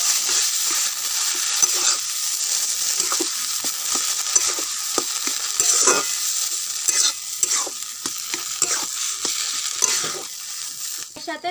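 Mung dal is stirred into katla fish head and banana flower frying in a pan, a loud continuous sizzle broken by frequent scraping strokes of the spoon, close up and steady throughout.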